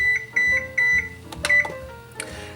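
Oven control panel beeps while the temperature is being set to 350 degrees, several short, clear electronic beeps in a steady rhythm followed by a few louder key presses and tones, close and alone.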